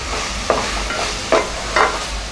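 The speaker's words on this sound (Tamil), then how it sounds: "தக்காளி நல்லா வதங்கிட்டுருக்கு." Tomatoes sautéing in oil for Nellore-style tomato rice are stirred in a pan, with three soft scraping strokes over a steady low sizzle, close and alone without talk.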